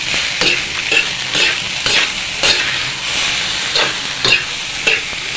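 Food frying in a pan is stirred in a steady rhythm, each scrape rising over a continuous close, loud sizzle, with no talking.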